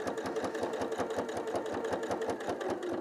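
A sewing machine runs steadily, stitching a seam to close the open hole in a homemade throw pillow, its rapid even needle rhythm close and continuous throughout without any voices.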